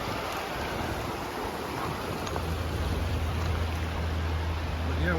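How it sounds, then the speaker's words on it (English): A river rushes down a mountain stream near cabins along the drive from Gatlinburg to Cherokee, a steady broadband roar heard from nearby with a low rumble building toward the end. "just sit out here and listen to the river roar down the stream"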